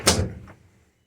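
A GMC Silversides coach door, a little stiff after adjustment, swings shut with a single solid thunk up close, followed by a fainter secondary clunk as it settles.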